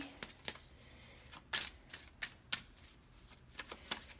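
Tarot cards being shuffled for a card reading, a string of soft riffling flicks and taps at an uneven rhythm, close but quiet with no talk.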